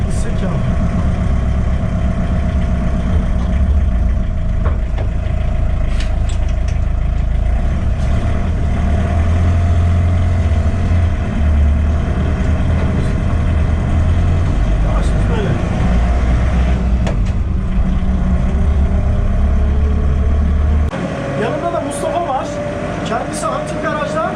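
A Hummer from the Kurtlar Vadisi Irak film runs after its first start in five years in a garage, a steady low idling engine rumble throughout, someone talking over it, the engine note dropping near the end.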